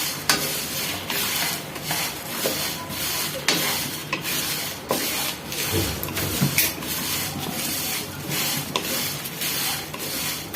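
A homemade meat-curry spice mix fries in a pan with a steady dry sizzle, while frequent scraping stirs and rubs from a spoon or spatula against the pan sound up close throughout.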